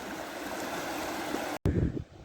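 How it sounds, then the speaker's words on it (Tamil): Water pours steadily from a sluice gate on the side of Wadi Al Fulaiji Dam in Oman, a continuous broadband rush heard up close, with a brief dropout before the flow resumes more softly. "அந்த டேமோட ஒரு சைடில் உள்ள ஒரு மதகுல இருந்து இந்த தண்ணி வந்து சூப்பராக வந்துட்டு இருக்குது"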